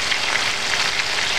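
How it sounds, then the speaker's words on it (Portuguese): Whole chicken fillets, Italian-style, fry in a pan with a steady, close, dense sizzle that holds at an even level throughout, with no talking. "Aí eu vou fritar eles assim aqui."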